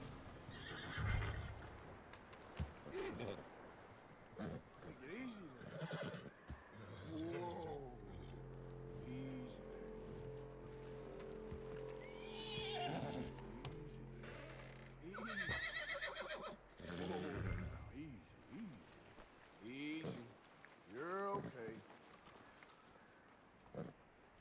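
A horse in the video game Red Dead Redemption 2 gives several loud, quavering neighs and snorts, with clip-clop hooves, a low droning game-music bed and occasional talking around them.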